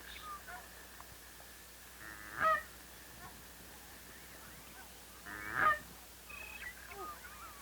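Geese give two distinct honks a few seconds apart against a quiet outdoor background, with faint bird calls in between.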